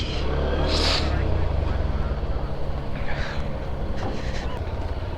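A motorcycle pulls away up a steep hill road from Dighinala toward Sajek Valley. A steady low engine drone runs throughout under heavy wind buffeting, with a voice briefly audible.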